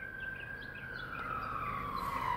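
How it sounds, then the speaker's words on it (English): A distant ambulance siren wails in a long, slowly falling tone over steady background noise, growing a little louder toward the end. "Ooh, that's the ambulance."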